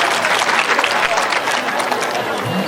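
Loud applause from a seated audience at a formal televised school event, sustained and crowded, with a faint murmur of voices under the clapping.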